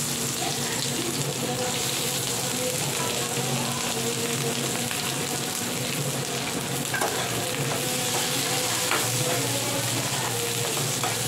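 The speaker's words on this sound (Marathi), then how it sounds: "पॅनमध्ये तेल टाकून कांदा भाजायला घालते" Onion fries in hot oil in a pan, giving a dense, steady sizzle that holds evenly for the whole stretch, close and fairly loud, with no talking.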